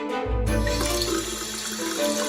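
A tap turned on full into a sink for face washing, a strong steady rush of running water starting after a brief hiss and continuing loud and close throughout.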